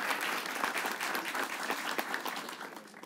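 Studio audience on a Turkish talk show applauding, a brief, steady burst of dense clapping at moderate distance that starts to fade at the end.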